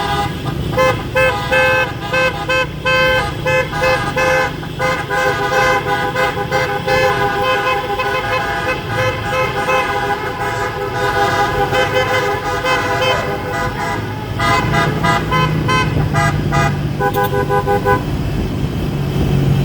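Car horns honk loudly and continuously in a roadside political motorcade for a vice-presidential candidate, with overlapping toots and long blasts layered over running vehicle engines nearby.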